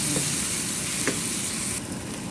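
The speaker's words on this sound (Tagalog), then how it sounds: "At nilalagyan ko na yan ng paminta habang ginigisa kong mga bawang para mabango." Garlic sautéing in a pan with pepper for a ground beef torta with potatoes gives a steady, close sizzle and frying hiss throughout, with a brief stirring scrape near the middle and no talk.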